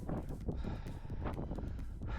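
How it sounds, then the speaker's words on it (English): Wind blows on the summit of Lord's Seat, a hilltop in the Lake District, as a faint, steady low rumble of gusts buffeting the microphone with no one talking. "Still quite windy."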